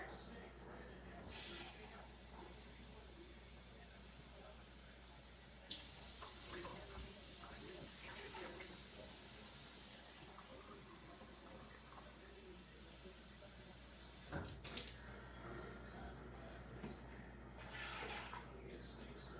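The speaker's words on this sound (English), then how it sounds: "I'm going to add 4 cups of water." Four cups of water splash and hiss steadily into a pot for corn chowder for several seconds, a continuous rushing pour with faint kitchen clatter around it.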